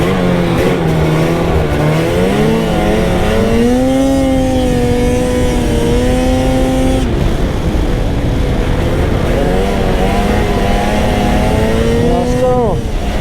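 A 146 trail sled snowmobile engine drones loud and close throughout the ride, its pitch climbing and dropping as the throttle is worked, with a long steady stretch in the middle.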